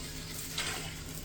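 Buldak noodles cooking in a pan, a faint steady sizzle with a soft stir near the middle, short and quiet.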